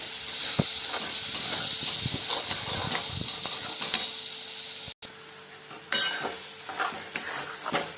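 Egg bhurji sizzles steadily in a hot frying pan while a spatula stirs and scrapes it, with scattered clicks and a brief break before the stirring resumes, with no voices.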